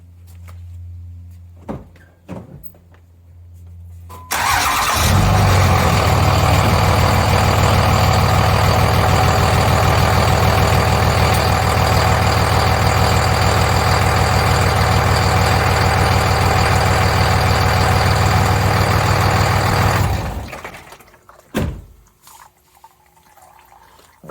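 A 5.9 Cummins truck engine idling during a transmission fluid pump-out on a 48RE, a loud steady low rumble that starts suddenly, holds for about fifteen seconds and cuts off, with a few clicks before and after.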